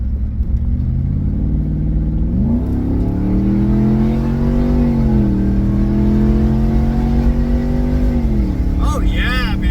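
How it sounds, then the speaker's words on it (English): Ford Marauder 4-valve V8 engine pulling hard from inside the car, a loud continuous drone that rises in pitch and shifts through gears, with excited speech over it. "Just listen to this. Just listen. Listen to this beautiful, beautiful 4-valve."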